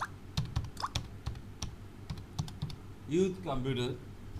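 Light, irregular keystrokes on a computer keyboard while entering title text in PowerPoint, close and fairly quiet, with a voice speaking over the typing partway through.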